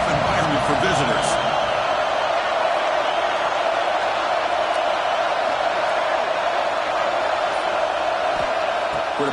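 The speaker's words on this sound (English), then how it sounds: "Listen to the crowd energy here in the early going." A packed stadium crowd roars at an Ohio State vs USC college football game, a dense, continuous wash of cheering from every side, with a commentator talking over it.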